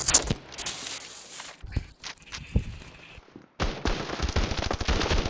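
Gunfire in the mobile shooter Standoff: loud bursts of rapid automatic shots, then a short quiet gap, then a dense continuous run of shots to the end.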